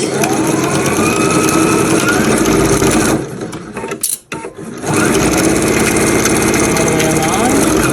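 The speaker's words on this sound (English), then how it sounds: "We're just going to start sewing in the cream seam allowance, and I am going to do back as well, back stitches here" A sewing machine stitching a felt seam with back stitches, loud close mechanical whirring and rapid needle chatter that halts briefly midway with a click before running again, under a speaking voice.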